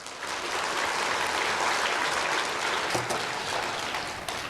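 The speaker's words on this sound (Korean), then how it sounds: "노인들 위해서 박수 한번 쳐주세요." Audience applause during a Korean pastor's lecture, a dense, steady wash of many hands clapping at once, loud and sustained for several seconds, with no talk over it.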